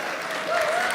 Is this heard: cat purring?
no